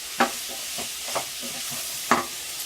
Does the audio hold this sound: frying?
yes